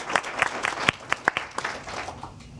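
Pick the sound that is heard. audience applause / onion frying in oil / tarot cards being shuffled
audience applause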